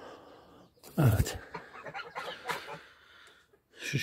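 A Brahma hen clucks close by in short bursts while being placed on eggs to brood, with rustling and handling noises in between and a brief voice at the end.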